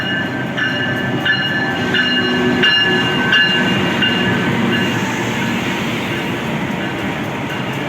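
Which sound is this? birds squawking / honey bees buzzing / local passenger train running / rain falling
local passenger train running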